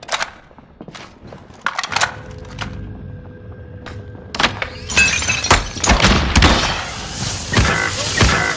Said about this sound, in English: I'm chucking this grenade up here.